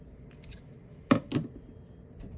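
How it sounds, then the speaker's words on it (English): Scissors cut through leather while making an edge protector for a traveler's notebook, a few faint snips followed by one sharper, louder crunching cut and a second softer one, close and quiet. "These scissors are actually working pretty well."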